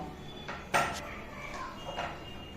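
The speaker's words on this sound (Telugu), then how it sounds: "దాన్ని ఇట్లా చిన్న చిన్న ముక్కలుగా కట్ చేసుకుందాం" A knife cutting an ash gourd into small pieces in a kitchen: a few sparse, soft taps and chops against a board, faint and irregular over low background noise.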